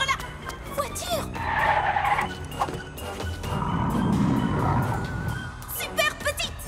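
A cartoon toy car speeds off with squealing, skidding tires, a brief screech rising over background music and voices.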